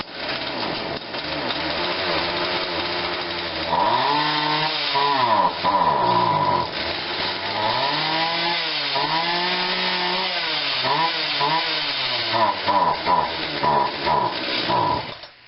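A Craftsman-branded Poulan 16-inch chainsaw under repair runs with its two-stroke engine buzzing loudly and continuously, revving up and down unevenly as it struggles to stay running, heard close with no voices.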